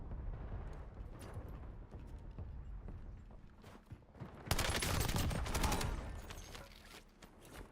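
Battlefield 6 or Warzone combat: scattered distant shots and clatter, then a loud, sustained volley of automatic gunfire that slowly fades.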